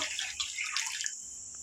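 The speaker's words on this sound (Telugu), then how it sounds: "ఇప్పుడు వాటర్ పోసేస్తున్నాను" Water from a measuring bowl is poured into rice in a pot for Andhra-style plain pulao, a close, bright gush lasting about a second that then cuts off into quiet.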